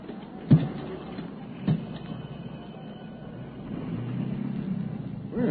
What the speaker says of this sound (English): Well, your motor sounds all right, Stevens.